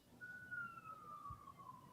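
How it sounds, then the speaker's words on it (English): A single siren wails faintly in the distance, one long slowly falling tone drifting over a quiet room background with no one speaking. "Whose sirens are those?"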